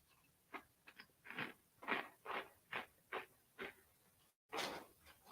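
Crunchy food is chewed close to the microphone in a steady series of about a dozen bites, each a short crisp crunch, with a brief silence before one last chew.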